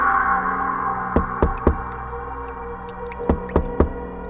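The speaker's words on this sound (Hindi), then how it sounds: "उस अलमारी से खटखटाने की आवाज आती है" Knocking from inside a wooden cupboard comes in two short groups of three sharp raps each, set against a steady droning background, with no voices.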